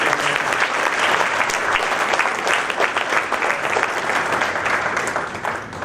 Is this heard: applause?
yes